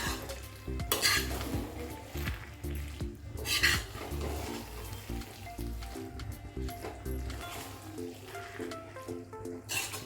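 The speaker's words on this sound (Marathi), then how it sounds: "हे मिक्स करूया आपण यामध्ये म्हणजे सगळ्या पूर्ण पास्त्याला ते चीज व्यवस्थित लागल" Red sauce pasta being stirred with melted cheese in a pan, with a soft sizzle under repeated scraping and clinking of a utensil against the pan, close and fairly quiet.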